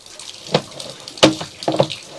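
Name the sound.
water running through sewer pipe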